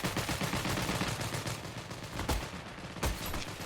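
Rapid bursts from an MG13 machine gun in the shooter game Heroes and Generals, a dense rattling stream of shots loud and close, with brief gaps between bursts and no talk.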